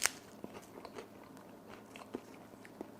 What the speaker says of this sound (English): Now, I'll taste the plain cucumber chips first.